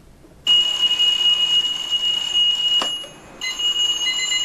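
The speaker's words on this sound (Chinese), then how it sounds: "闹钟吵得不得了，很多人因此被吓醒。" An alarm clock goes off abruptly after a moment of quiet, giving a loud, continuous high electronic ringing tone that briefly dips near the end before resuming. No talking is heard.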